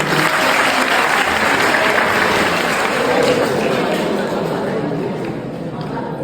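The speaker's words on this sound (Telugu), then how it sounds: "ముందు వాళ్ళ క్లాప్స్ కొట్టాలి మన ముందు" An audience claps loudly and continuously at a movie trailer launch event, with dense, sustained applause that eases slightly near the end, while voices chatter underneath.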